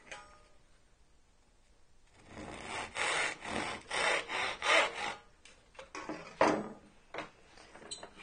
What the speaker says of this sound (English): with my chip carving knife, same thing, I can push it on the line,